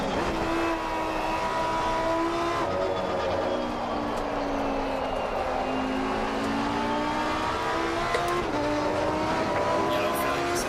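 A Mustang GT race car in Assetto Corsa Competizione roars down a straight, its engine note climbing steadily through the gears at a constant loud level, with faint pitch dips at shifts.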